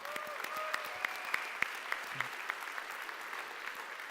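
Applause from a car-enthusiast crowd at an Acura Day Q&A in Torrance, California, a sustained scattered clapping with distinct individual claps popping out over a steady wash of hands.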